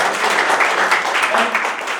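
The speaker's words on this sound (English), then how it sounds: "And a round of applause for HitchLine and to Dr. Shabin's success." An audience at a mobile app launch event applauds, a steady, dense crowd clapping that holds at an even level throughout, with some voices underneath.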